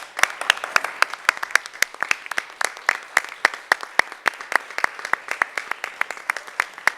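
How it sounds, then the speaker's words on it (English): Applause at a school board of education meeting, a small audience clapping in a brisk, uneven patter of distinct claps that runs steadily for several seconds with no voices over it. "let's give these folks a round of applause"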